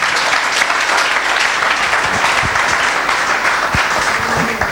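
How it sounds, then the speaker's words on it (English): A large church congregation claps continuously, a dense, steady wash of applause throughout with a few distinct claps standing out. "Clap your hands for Jesus."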